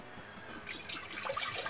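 Water is poured into a cup at a small campsite, a brief close splashing trickle that starts after a quiet moment and grows fuller as the cup fills.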